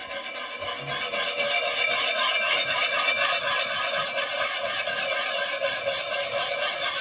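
A whisk scrapes steadily around a bowl of maple bourbon BBQ sauce, a loud, continuous rhythmic rubbing close up, with no talking.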